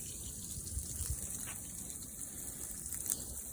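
Water gushing steadily from a drain hole in a boat's underside, a continuous close splashing stream with no talking.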